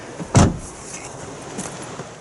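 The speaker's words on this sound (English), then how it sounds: "Slide the seat all the way back for ease." The electric seat motor of a Porsche Cayenne Turbo 955 runs as the seat slides back, a brief whirring surge with a clunk, followed by a fainter second motor sound against quiet cabin background.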